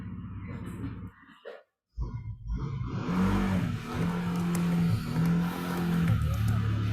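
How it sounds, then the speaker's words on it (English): A motorbike engine passes by, revving and rising with a droning, wavering tone that grows louder and stays close for several seconds after a brief pause. "Engine, motorbike engine."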